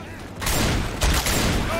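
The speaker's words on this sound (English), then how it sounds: "Fire the howitzer." Heavy, sustained booming blasts from a howitzer in Left 4 Dead 2, loud and dense with a strong burst about a second in, over continuous rumbling noise.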